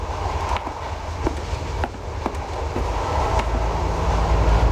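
A train runs on rails in the 1997 DOS game The Last Express, a continuous low rumble with irregular clacking wheel beats, steady and fairly close, with no speech.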